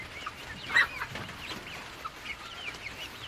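Poultry chickens cluck at feeding time, giving soft, scattered calls with one brief louder cluck against a quiet, steady farmyard background. No one speaks.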